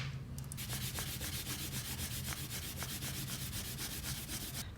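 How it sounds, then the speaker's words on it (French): An eraser rubs out pencil construction lines on paper with quick, close back-and-forth scrubbing strokes in an even, soft rhythm over a low background hum. "on peut gommer les traits de construction"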